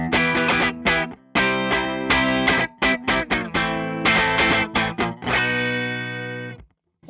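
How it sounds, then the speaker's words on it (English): Crunchy, lightly distorted electric guitar chords ring through a Blackstar Series One 104 6L6 tube amp, a run of choppy stabs ending in one long sustained chord that cuts off. "You hear that little bit of crunchy distortion there?"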